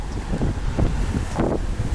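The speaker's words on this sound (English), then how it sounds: "Sorry about the wind, I'll make it nice and quick outside." Gusty wind buffets the microphone outdoors beside a 2019 Ford Mustang GT California Special in low, rumbling blasts, loud and close, with no speech.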